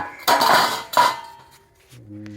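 A metal cooking pot is picked up and handled during a vegetable harvest, giving two bright clanging knocks close by, the second one ringing out and fading, then a faint low hum.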